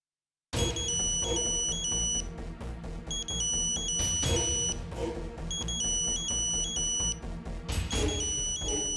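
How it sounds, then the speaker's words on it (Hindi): A loud electronic phone ringtone starts abruptly in the middle of the night and plays a repeating melodic pattern of bright beeping tones over a busy musical backing, continuing without pause. "अरे किसी को अर्जेंट काम होगा तो ही कोई आधी रात को फोन करेगा ना।"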